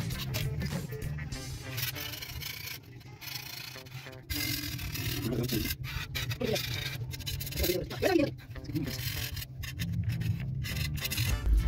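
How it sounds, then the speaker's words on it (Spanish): Steady rubbing and scratching as a dirty motorcycle wheel rim on a Rocketman 250 is scrubbed clean, continuing close up with irregular strokes and a voice occasionally speaking in Spanish. "la llanta está sucia, la vamos a limpiar para poder ponerle el removedor"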